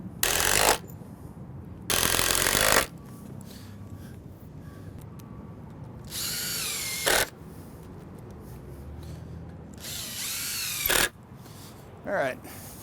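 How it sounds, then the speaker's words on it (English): A power drill drives screws into a fitting inside a Conex box training center, in several loud, close whirring bursts of one to two seconds each, with quieter ratcheting clicks and mechanical handling between them. "I'm gonna go ahead and throw some screws in here real quick."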